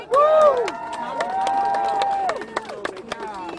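Protesters at a George Floyd justice rally in Chicago cheer and clap in a burst of applause, with shouting voices rising loudly at first, then a sustained cheer and scattered claps trailing off near the end.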